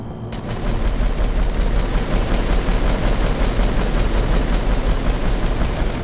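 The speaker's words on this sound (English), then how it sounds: "So help me shoot the supply drop down." Sustained automatic gunfire in a video game, rapid continuous bursts aimed at a supply drop, loud and dense throughout with no talk.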